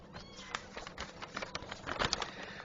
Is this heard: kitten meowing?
yes